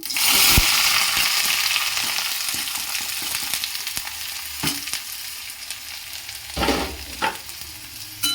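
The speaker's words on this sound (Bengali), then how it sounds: "এটা ভালো করে ভেজে নেবো" Onion and green chillies sizzle steadily in hot oil in a wok, loud and close, with occasional scraping and clinks from stirring in the pan.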